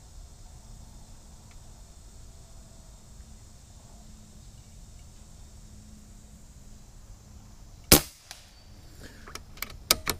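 An Umarex Gauntlet .22 air rifle fires a pellet. One sharp, loud crack comes out of a quiet background, and a few fainter clicks and knocks follow.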